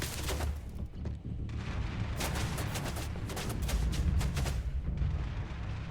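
Rapid turret gunfire in a video game sounds as dense, loud bursts of booming shots, nearly continuous with brief pauses, against rumbling combat noise.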